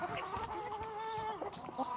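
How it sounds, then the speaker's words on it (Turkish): Flock of chickens clucking in a snowy garden, with steady overlapping hen calls and some pitched, drawn-out notes, moderately close and continuous, with no talking. "Bakın arkadaşlar bu da onların tavuğu."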